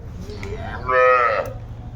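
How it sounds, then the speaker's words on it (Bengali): A dairy cow at a cattle market gives a single loud, close moo that swells in the middle of the clip over a low background rumble. "বেশ সুন্দর গাভী বাচ্চু সংগ্রহ করছে তোতা ভাই"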